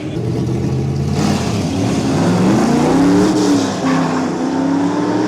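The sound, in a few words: drag racing car launching with wheelspin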